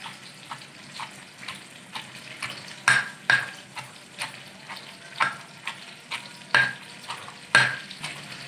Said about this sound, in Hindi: भिंडी को अच्छी तरह से फ्राई कर लेंगे हम।